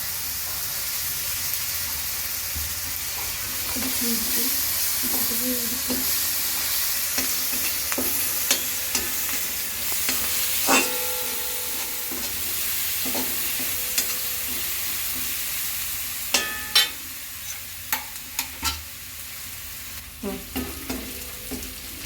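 Jackfruit stir-fried with onion and curry leaves in a pan gives a steady sizzle of frying, with intermittent scraping and clinking of a spoon stirring close by.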